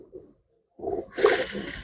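A pigeon kept by a fancier coos, a soft low burble followed by a brighter, louder call, close by over a brief quiet pause.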